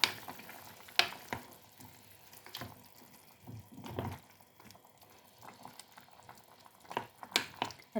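Pork adobo with sweet potato cooking in a pot, a low bubbling simmer with wet liquid sounds and scattered clanks and scrapes of a utensil against the pot.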